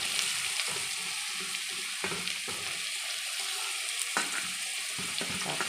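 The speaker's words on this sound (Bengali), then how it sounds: "তার পেঁয়াজটা দিয়ে দিলাম খুব বেশি ভাজবো না হালকা করে ভাজবো" Onions and pointed gourd seeds lightly frying in a pan, a continuous hissing sizzle broken by regular stirring scrapes and pan knocks, close and without talk.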